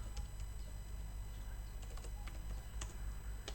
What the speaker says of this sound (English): We can verify with the cmd and type config ipconfig command.